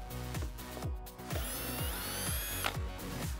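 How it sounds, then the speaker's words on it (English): A power drill with a Phillips bit whirs with repeated clicking ratchet pulses in a steady rhythm, close by, its pitch rising and falling as screws turn out of a Jeep Wrangler JK fog light housing. "I'm going to use a Phillips bit in my drill in order to remove them"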